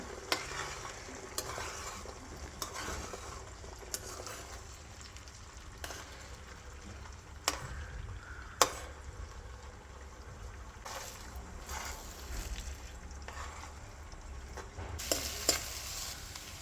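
Egg paneer fried rice stirred in a pan, a steady scraping and tossing with soft sizzle underneath, punctuated by a few sharper clacks of the spatula against the pan; no talking.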